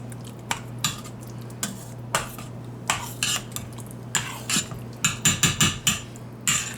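Chili is stirred in an Instant Pot: a spoon knocks and scrapes against the metal pot in irregular strokes, speeding into a quick flurry of clanks toward the end, over a low steady hum.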